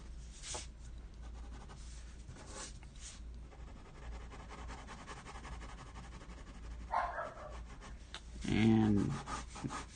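A dog barks at something outside, two or three sharp barks near the end, heard over close pencil-like rubbing and scratching during a morning sketch session.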